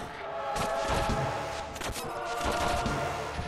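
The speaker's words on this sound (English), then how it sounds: "Did not mean to use my shotgun there." Shotgun blasts in the video game Owlboy, a dense burst of loud, overlapping gunfire cracks layered over busy game music and effects.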